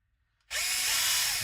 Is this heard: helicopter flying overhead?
no